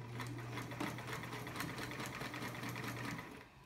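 Vintage Sears Kenmore 148 sewing machine running a very long stitch length, steady close mechanical whir with rapid regular needle clatter throughout, easing off at the very end.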